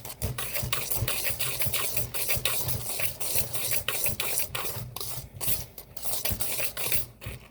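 Gluten-free vanilla pound cake batter being beaten by hand in a bowl after an egg is added, a fast, steady rhythm of scraping, slapping strokes close up with no talking.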